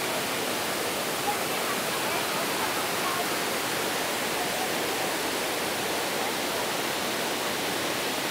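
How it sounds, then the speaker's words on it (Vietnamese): Steady broadband rush of the Thác Mây waterfall in Thanh Hoá, a continuous wash of falling water filling the scene at a constant level with no breaks and no voices over it. "thác ở đây mát lắm cả nhà"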